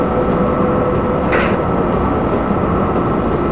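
Train rolling through snow in Train Simulator 2014, a steady loud rumble of wheels and engine that holds evenly throughout with no talk, broken by one brief higher squeal partway through.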